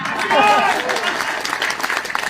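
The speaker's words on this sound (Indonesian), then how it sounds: "Mana tepuk tangannya ini?" Applause breaks out from an audience at a mawlid religious gathering in Biak, Papua, a dense, fairly close patter of clapping that fades and thins over about two seconds, with a voice overlapping at the start.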